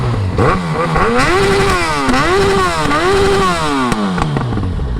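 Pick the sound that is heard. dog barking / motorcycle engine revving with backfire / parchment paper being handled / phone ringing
motorcycle engine revving with backfire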